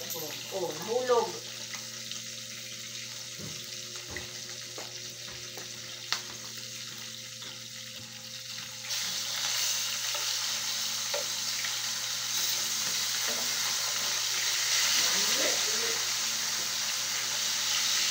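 Food sizzles and fries in a pan throughout, a steady crackling hiss that grows fuller partway through, with occasional clinks of stirring and faint voices in the background.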